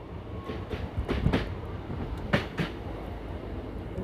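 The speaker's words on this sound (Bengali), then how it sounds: "একদম ধীরে ধীরে যাবে ট্রেন এর থেকে বেশি জোরে যাবে না" A Teenpahar to Rajmahal passenger train rolls slowly along, with a low rumble of wheels and carriages and a few irregular clanks and rattles from nearby.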